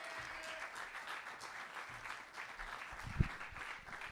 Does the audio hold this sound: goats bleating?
no